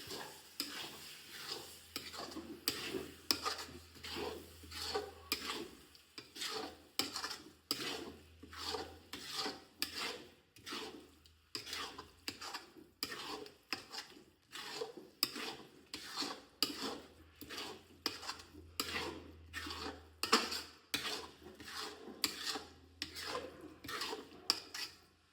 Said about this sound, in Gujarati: હવે આપણે એને મિક્સ કરી દઈશું.